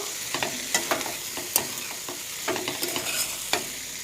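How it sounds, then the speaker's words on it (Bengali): Cauliflower dal stirred in a pot, a utensil clinking and scraping against the metal in irregular taps over a soft sizzling bed, close by and without speech. "ডালটা দিয়ে এবার ভালো করে নেড়ে নেব।"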